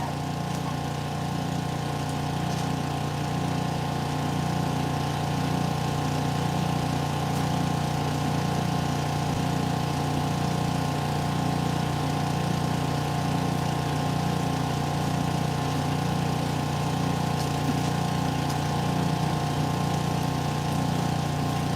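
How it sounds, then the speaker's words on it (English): A plastic-to-fuel machine runs its engine while its blade spins, producing a loud, steady mechanical drone with a pulsing, rhythmic churn that holds constant throughout. "Let me spin the blade."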